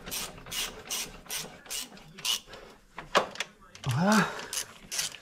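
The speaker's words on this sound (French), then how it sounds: "Je les ai mis contre et maintenant je vais les serrer." A ratchet tightens the exhaust bolts on a BMW M47 diesel cylinder head. Quick rhythmic clicking bursts repeat close up throughout, with a brief spoken word and a tool clunk partway through.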